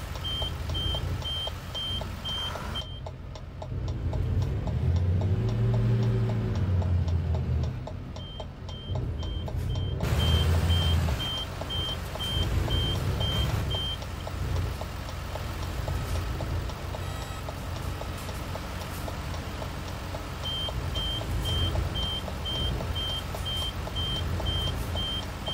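A truck backing a trailer in the American Truck Simulator video game, steady evenly spaced reversing beeps running through most of the stretch over a constant engine rumble.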